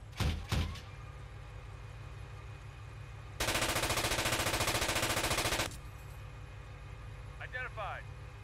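A steady, rapid burst of machine gun fire lasting a couple of seconds in the tank simulator game Steel Beasts Pro PE, preceded by a few sharp shots and set against a low engine rumble, with a voice speaking nearby.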